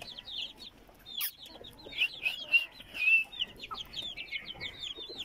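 Several chickens cluck and chirp close by in quick, overlapping bursts, with higher peeping calls mixed in.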